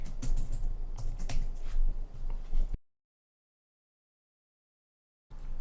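Rapid, close keystrokes on a computer keyboard while typing a file name during Java programming, a dense patter of clicks for about three seconds before cutting to silence.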